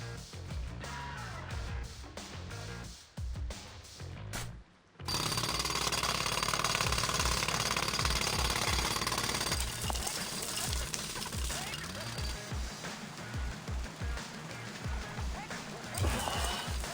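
In the TMNT video game, a jackhammer pounds a hole in rapid, loud repeated strikes that run continuously after a brief pause, with game effects and voices mixed underneath.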